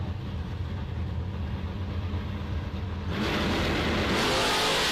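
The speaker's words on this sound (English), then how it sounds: "Cole in that blue S10." At a drag racing bracket event, engines of a blue Chevrolet S10 and a Camaro rumble heavily, then the roar swells sharply partway through as the cars launch, loud and close.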